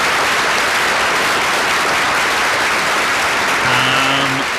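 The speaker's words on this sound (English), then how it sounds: "So round of applause for Plymouth." Loud, dense clapping fills a hall as the audience applauds a third-place finisher at an Eisteddfod vocal competition, with a brief tonal sound appearing near the end under the ovation.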